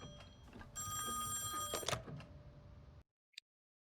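A telephone rings inside the horror video game Song of Horror, loud trilling bursts with a brief clunk before it cuts to silence.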